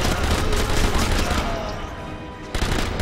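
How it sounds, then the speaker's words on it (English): Gunfire aimed at the player in the Sniper Elite V2 video game: bursts of rapid shots and muffled impacts that dip briefly and then return loudly near the end. "Where am I being shot from?"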